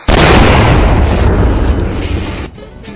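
A loud rocket explosion in the VR shooter Onward bursts right at the start and rumbles on for about two seconds before cutting off, with no talking.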